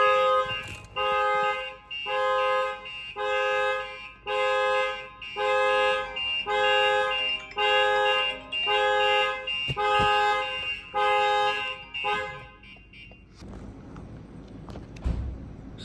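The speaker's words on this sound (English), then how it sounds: "Now the alarm's going off." A StarLine S9V2 alarm on a Lexus goes off with the car horn, giving about ten loud, regular honking blasts, each roughly a second long, before it stops and a few faint knocks follow.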